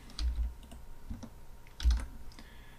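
Typing on a computer keyboard while writing a conditional statement in VBA, a few close key clicks and heavier thumps in quick uneven bursts over under three seconds.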